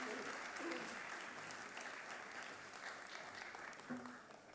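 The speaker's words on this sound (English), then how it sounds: "Could you please welcome her with a huge round of applause?" Faint, steady applause from a conference audience greets a keynote speaker from the Government of Maharashtra at Mumbai Les Entretiens, an even wash of many hands that fades slightly over the final seconds.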